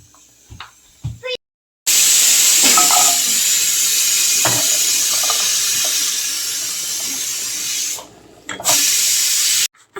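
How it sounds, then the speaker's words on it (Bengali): Onion, garlic and two kinds of chapa dried fish frying in a pan: a loud, dense, steady hiss that cuts in and out abruptly, with a few faint clinks and knocks underneath. "আরেক পাশে হচ্ছে আমি পেঁয়াজ রসুন তারপর শুটকি এগুলো সব ভেজে নিব।"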